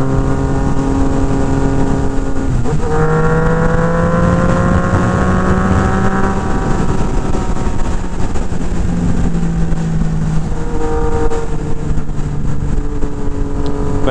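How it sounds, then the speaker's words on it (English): A Yamaha FZ-09 motorcycle fitted with a loud TOCE exhaust revs hard and close, its pitch climbing and falling through several throttle blips with a sharp crackle between pulls, heard alone with no talking. "It's not an exhaust you want to start at 5 o'clock in the morning and wake up the neighbors"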